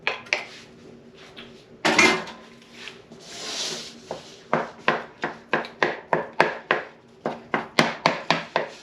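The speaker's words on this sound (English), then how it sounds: "we're going to continue cooking our onions and our red peppers" A utensil scrapes and stirs onions, red peppers and sausage in a pan for a breakfast casserole, with uneven rubbing at first, then a steady run of sharp, evenly spaced scraping strokes close by, with no talk.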